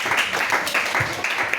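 A church congregation claps and cheers in worship, with dense steady applause that rises in rhythmic bursts for a short stretch.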